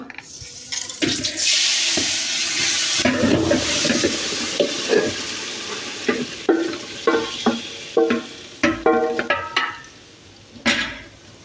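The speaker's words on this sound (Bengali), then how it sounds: "পাতিলে একটু ঘি দিয়ে গরম করে নিছি এখন আমি মেরিনেট করা গোষ্ঠ এটার ভিতরে ঢেলে দেবো" Marinated beef poured into hot ghee in a pot, a long wet rushing sizzle at first, then a run of sharp, closely spaced clattering taps and spitting as the meat settles and is stirred.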